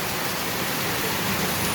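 Heavy rain in Jaipur, Rajasthan pours in a dense, steady roar of broadband noise, loud and unbroken throughout.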